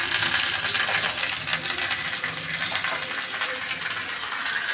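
Hot tempering of mustard seeds, cumin and curry leaves poured into tomato rasam, giving a steady broadband sizzling hiss with splashy liquid texture that stays loud and continuous throughout.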